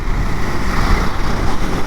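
A 650 cc motorcycle rides in third gear, its engine a loud, continuous low rumble blended with wind rush.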